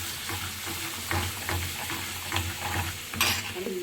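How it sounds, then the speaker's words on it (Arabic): Garlic frying in oil for a tasha tempering for molokhia, with coriander, a constant close sizzle broken by spoon stirs and scrapes against the pan, no one speaking. "هتحمر التومه ونطشها بقى على الملوخيه"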